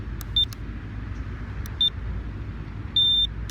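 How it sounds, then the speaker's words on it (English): Three short electronic beeps from a drone transmitter syncing, over a steady low rumble, the last held noticeably longer than the first two. "when you hear 2 beeps like that, it means it's synced up"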